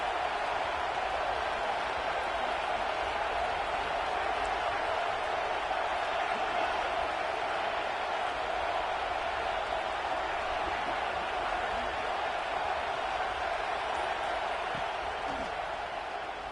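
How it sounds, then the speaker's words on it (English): A college football stadium crowd roars in a steady, dense wash of cheering and noise that holds evenly the whole time, with no break or peak. "Listen to the crowd energy here in the early going. This is a tough environment for visitors."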